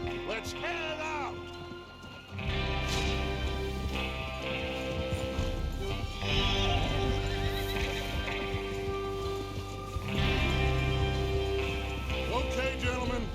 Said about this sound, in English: Get your horses ready.